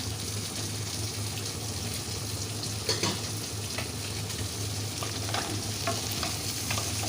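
Teasel gourd fries in a pan and is stirred now and then, giving a low steady sizzle with a few brief scraping and clinking touches under a constant hum.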